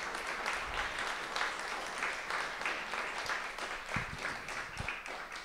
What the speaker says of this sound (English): maybe a quick round of applause for our panelists here